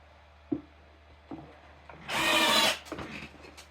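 A power drill drives an 8 x 1/2 inch screw, preceded by a couple of small handling knocks, then one loud whirring burst of about a second, followed by faint rattles as it stops.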